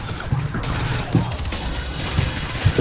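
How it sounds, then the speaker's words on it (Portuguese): Rapid gunfire from a rooftop in the Call of Duty MW2 video game: dense bursts of shots with sharp cracks standing out over a continuous, rumbling battle din. "agora é tiro frenético de cima da laje aqui"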